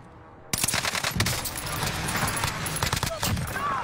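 Video game gunfire: after a short quiet lead-in, rapid bursts of close automatic shots crackle on and off, with a voice talking under the shooting.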